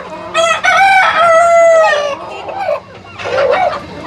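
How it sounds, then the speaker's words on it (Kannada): Native Natikoli hens on a farm give loud, close clucks and drawn-out calls, with a rooster-like crow rising and falling over about two seconds, followed by another burst of calls. "ಇವೆಲ್ಲ ಹೆಣ್ಣುಗೋಳಿಗಳು"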